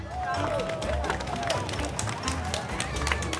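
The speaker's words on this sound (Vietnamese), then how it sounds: "Rồi nếu đúng bà con cho một tràng pháo tay nha" Studio audience at a Vietnamese television game show bursts into steady, dense applause, a continuous wash of clapping held at an even level from start to finish.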